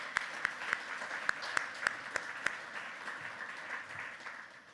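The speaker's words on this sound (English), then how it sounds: "I'd really like to give another round of applause to our mentors" Audience applause for mentors at a startup accelerator demo night, a steady wash of clapping with several sharp, louder claps standing out near the start, continuing evenly for a few seconds without any voices.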